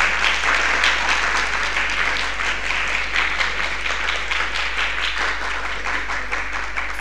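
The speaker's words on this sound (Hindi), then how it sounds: "एक बार तालियां" A crowd applauds steadily at a seminar, dense clapping sustained throughout at a fairly loud, even level.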